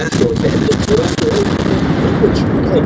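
Warship guns firing in World of Warships, a dense barrage of booming blasts rolling together into a continuous loud rumble with sharper bursts poking through.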